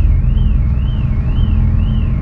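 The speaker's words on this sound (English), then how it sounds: "Set off their car alarm." Car alarm going off at a beach campground on an island: a loud, near, wavering electronic siren sweeping up and down in a steady repeating cycle over a rumbling background.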